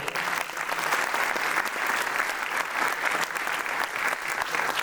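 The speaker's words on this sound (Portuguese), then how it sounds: "Gente, mais palmas aí para o seu Zé." A crowd at an evening event opening in São Gonçalo claps for Seu Zé, a dense, steady burst of applause filling the whole stretch, fairly close and unbroken by talk.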